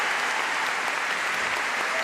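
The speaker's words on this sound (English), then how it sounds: "Applause for both men." Crowd applause for two men's singles SL3 para badminton players at a Paris semifinal, a continuous, even roar of clapping filling the arena at steady loudness.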